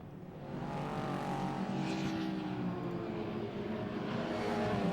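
Racing cars on a circuit at a BARC race, accelerating back to speed after a pace car period, a loud continuous engine roar building as the field passes close, alone without talk.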